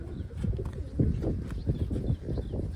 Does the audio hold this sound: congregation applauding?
no